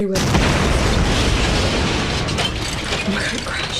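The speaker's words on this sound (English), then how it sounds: "The scene on the private jet ends after Ben has backed away from Sophie in horror, and the plane crashes." A private jet crashes in the horror video game YRP, producing a dense, roaring rumble of impact and shaking that stays loud for several seconds and then tapers slightly.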